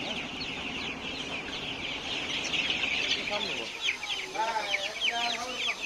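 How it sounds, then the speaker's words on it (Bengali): Many Tiger breed chicks chirp continuously in a dense, high peeping chorus at a hatchery as a batch of a hundred is packed, with chatter around them. "টাইগার মুরগির বাচ্চা নিচ্ছেন"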